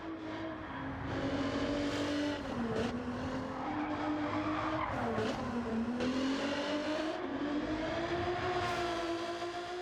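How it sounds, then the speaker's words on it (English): Engine of an Alfa Romeo 155 race car in Gran Turismo 7, a steady loud drone that rises and falls with revs and gear changes, running continuously and close throughout. "So here is the sound itself of the car."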